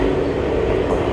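A New York subway train rides along the tracks, a loud, close, continuous rumble and roar from inside the car with a steady mechanical hum.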